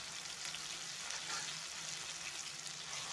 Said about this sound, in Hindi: अभी ये 2 मिनट फ्राई कर लेंगे।